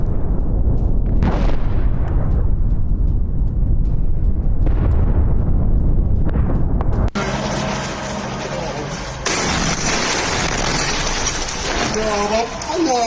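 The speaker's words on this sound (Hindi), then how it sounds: "मोर्टार लॉन्चर के जरिए इस हमले को अंजाम दिया गया।" Mortar rounds strike an Israeli armed vehicle in Gaza, producing two heavy booming blasts that each decay slowly. Denser mixed noise and talk follow.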